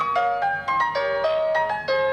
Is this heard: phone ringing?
yes